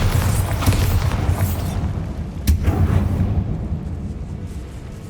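A Bombarda spell detonates in the Hogwarts Legacy video game: a sharp blast rings out midway through a low, rumbling game ambience that fades afterward, with no voices.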